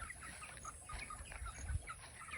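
A farmyard chicken kept alongside goats and roosters gives a few soft, scattered clucks, quiet and fairly close, with no talking.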